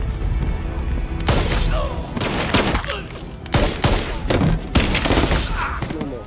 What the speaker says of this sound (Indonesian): Bobby dan Stick serentak menembak tepat ke arah musuhnya tersebut.